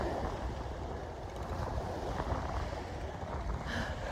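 Ocean waves break and wash along a Palawan beach in strong surf, a steady, loud, broad rush with wind buffeting the microphone throughout and no voices.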